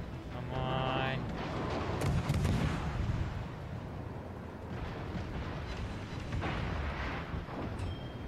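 Naval guns firing in the World of Warships video game, heavy booming salvos with rumbling blasts that roll and decay over several seconds, loud and dense, with a player's voice mixed in.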